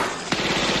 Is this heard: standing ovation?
no